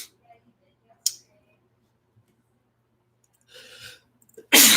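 A single person sneezes loudly and close at the end, after a quiet stretch broken by a few faint clicks and a brief murmur of breath or voice.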